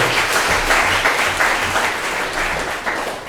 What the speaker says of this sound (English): Give Laurie a big round of applause.